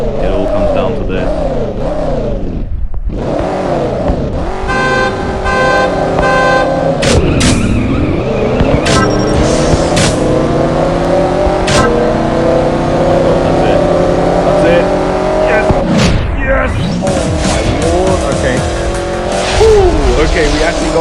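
Pagani Huayra with special livery racing in CSR Racing: a loud, continuous high-revving engine note with rising gear-shift sweeps, dropouts between shifts and tire squeal, under excited talk throughout.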